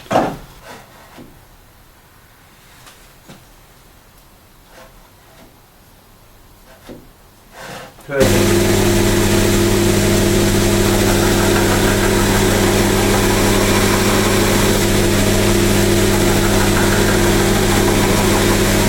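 After a quieter stretch of faint knocks and hum, a grinder abruptly spins up and runs loud and steady at close range, cleaning carbon deposits off a knife's cutting edge.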